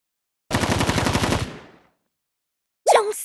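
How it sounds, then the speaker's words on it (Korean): A rapid burst of automatic gunfire in a video game lasting about a second, loud and close, followed by silence and another sharp sound at the end. "총소리?"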